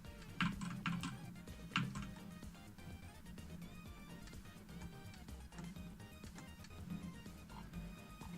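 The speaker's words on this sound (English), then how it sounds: "Can probably hear me clacking away on my keyboard." Fast, hard clacking on a computer keyboard during a drawing session, quiet but close, with irregular bursts of keystrokes and no talking.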